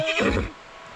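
A horse gives a loud, close whinny that rises and then tapers off within about half a second, leaving faint background noise.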